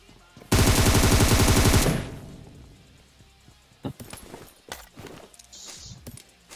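Gunfire in the video game PUBG Mobile: a loud, rapid automatic burst lasting over a second, followed by scattered sharp single shots and softer thumps and footsteps.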